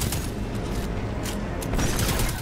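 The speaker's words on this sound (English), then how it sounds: "Just keep shooting the bad guys!" Dense, sustained gunfire from the Destiny 2 video game, a steady wash of rapid shots and impacts running the whole stretch at fairly even loudness, with a few sharper bursts standing out.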